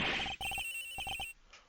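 A cell phone rings in Miles Edgeworth: Investigations, a bright electronic ringtone in two quick bursts of short repeated beeps, clean and close.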